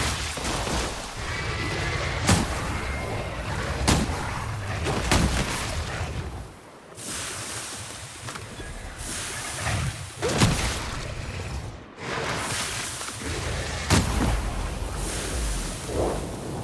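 Shotgun fire in the Outer Worlds video game, a series of sharp, loud blasts spaced a couple of seconds apart over a dense background of game noise, with no talking.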